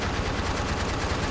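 Rapid gunfire from The Walking Dead video game, a loud continuous burst of shots filling the moment with no talking.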